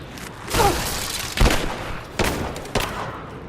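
Gunfire in the Rise of the Tomb Raider video game comes in four or five heavy booming volleys, each a sharp burst that trails off, loud and close.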